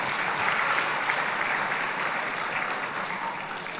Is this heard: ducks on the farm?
no